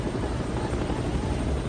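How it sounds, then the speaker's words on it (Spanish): UH-1 Huey helicopter, a loud continuous rotor thumping and engine roar dominating throughout, close and steady with no voices. "Equipados con helicópteros UH-1 Huey"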